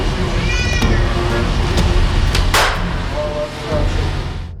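A rescued cat meows a few times, rising calls over a busy noisy background, with a sharp burst of noise midway.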